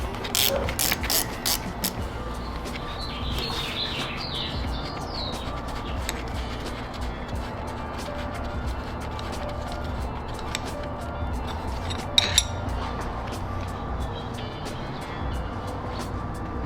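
A hand ratchet removes 12 mm axle bolts on a Nissan 240SX S14, a quick clicking burst near the start followed by steady background hum with faint scattered clicks.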